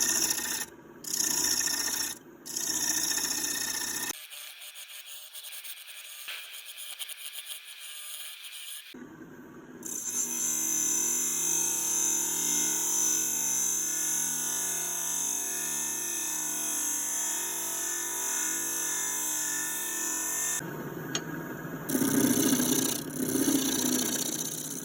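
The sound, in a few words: skew chisel cutting a Big Leaf Maple bowl on a lathe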